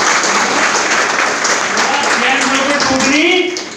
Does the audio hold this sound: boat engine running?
no